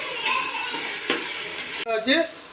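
Ginger and garlic paste sautéing in a pan for egg biryani, with steady close sizzling, stirring scrapes, and a brief sharp utensil knock near the end.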